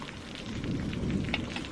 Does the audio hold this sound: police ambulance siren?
no